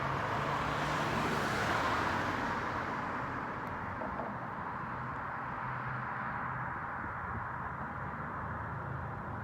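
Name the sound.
car driving by on road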